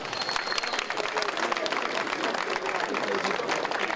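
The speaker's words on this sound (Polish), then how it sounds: "Gorące brawa!" A crowd at an outdoor Juwenalia 2016 student festival contest at Koszalin University of Technology in Poland claps steadily, a dense, even patter of applause mixed with voices in the audience.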